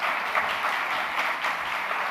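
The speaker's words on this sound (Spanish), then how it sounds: "qué menos que un gran aplauso de todos los asistentes" Audience applause at a tribute event for a founder of IDESCOMP and ASMTRAD España, a steady, dense wash of clapping sustained at even loudness throughout with no talk over it.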